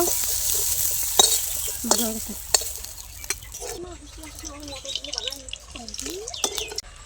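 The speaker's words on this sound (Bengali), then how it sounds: "চিংড়ি মাছগুলো একটু ভেজে নেব।" Prawns coated in salt and turmeric frying in a pan, crackling sizzle with spatters and scraping stirs, a voice talking over parts of it.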